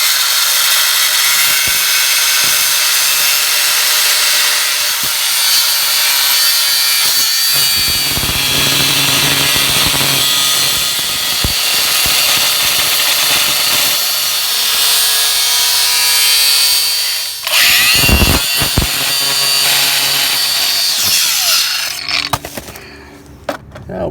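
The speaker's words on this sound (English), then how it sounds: "I'm taking the cutoff wheel and cutting a section out of here, out of this metal, so I can get to that bolt" Cutoff wheel grinding through metal on a worn 1976 Case 450 crawler, a loud, steady high-pitched whine that holds for about twenty seconds, then winds down with scraping before stopping near the end.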